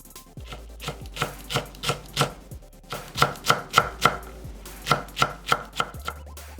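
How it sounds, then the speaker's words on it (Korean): A knife chops green chili peppers finely on a cutting board, producing a quick, even run of sharp, close taps in rhythmic bursts with short pauses between them. "쫑쫑 썰고"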